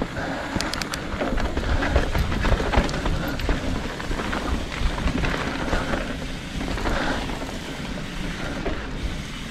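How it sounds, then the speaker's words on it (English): Steady rain patters and hisses close by, with scattered sharper drops and a low rumbling underneath, continuous throughout with no voices. "I'm feeling the rain"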